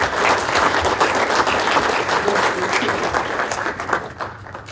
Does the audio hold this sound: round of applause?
yes